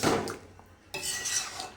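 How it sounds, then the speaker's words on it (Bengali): Metal utensil scraping and clattering in a pan as chicken is stirred with a green paste of chilli, ginger, spinach and coriander, a burst of clinks, a pause, then more scraping. "এবার আমি যেটা পেস্ট করেছিলাম সেই পেস্টটা এটার মধ্যে দিয়ে দিচ্ছি, দিয়ে এটাকে নেড়ে নেব"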